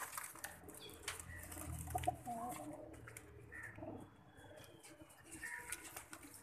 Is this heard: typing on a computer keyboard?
no